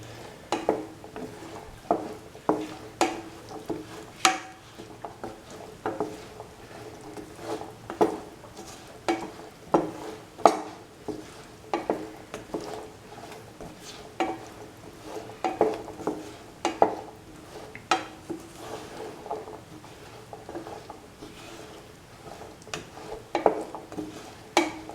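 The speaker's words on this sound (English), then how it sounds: "Keep on mixing so that all the ingredients are nicely mixed in the oil." A spoon stirring chickpeas in oil in a pan, with a quiet sizzle beneath and regular scraping knocks against the pan repeating steadily throughout.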